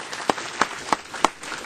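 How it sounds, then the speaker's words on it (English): An audience at a policy debate gives a round of applause for the moderator, heard as a few sparse, evenly spaced claps, about four distinct hits, fairly close and modest in volume. "could we also just have one more round of applause for our fabulous moderator"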